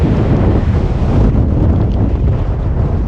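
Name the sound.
strong wind at a mountain pass, Paso Ventarrón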